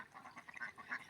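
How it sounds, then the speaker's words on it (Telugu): Ducks out on open water give off a short burst of quacking calls, several birds overlapping, fairly faint and at a middle distance, with no talk over them. "ఈ పక్షులు, ఈ బాతులు అన్నీ కూడా తమ తమ ఆనందాన్ని సర్దుకుంటూ ఎంజాయ్ చేస్తున్నాయి"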